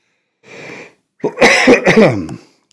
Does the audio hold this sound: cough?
yes